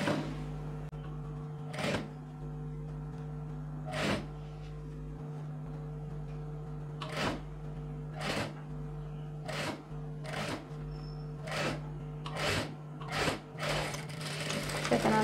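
A sewing machine runs steadily, stitching a sleeve onto a silk pattu pavadai blouse; a constant motor hum sits under sharp, regular clicks that repeat about every second, with no talking.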